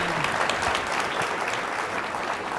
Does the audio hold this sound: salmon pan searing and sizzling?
no